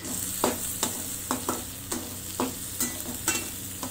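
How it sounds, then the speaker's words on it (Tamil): Onions sauté in a pan with fennel powder for a vegetable fry, a steady sizzle broken by regular scraping strokes of a spoon about twice a second, close and clear. "வெங்காயம் சேர்த்து நல்லா வதக்கிக்கோங்க."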